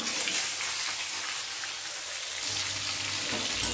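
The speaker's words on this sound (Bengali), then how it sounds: "এখন আমি একই তেলের মধ্যে দিয়ে দিচ্ছি এই যে কেটে রাখা পেঁপে আর আলু" Cut papaya and potato pieces frying in the same hot oil used for katla fish, giving a steady, dense sizzle with soft crackle throughout and no talking.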